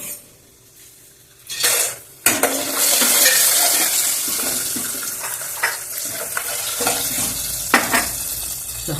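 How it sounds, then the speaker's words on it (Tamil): Dried chilies, asafoetida and chickpeas sizzle in hot oil as a tempering for variety rice, with a loud steady fry, sharp bursts as ingredients hit the pan, and occasional stirring clatters; no talking. "கொஞ்சம் மிளகா வெத்தலும் போடுறது, கொஞ்சமாக பெருங்காயம் போடுறது, கடலையும் போடுறது."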